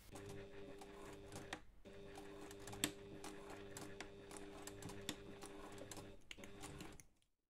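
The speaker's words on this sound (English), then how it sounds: "you're going to take this to the machine and we're going to stitch back and forth" A sewing machine stitches back and forth across the nose of a felt Santa ornament, a steady close mechanical whir with rapid needle clatter, pausing briefly twice before stopping.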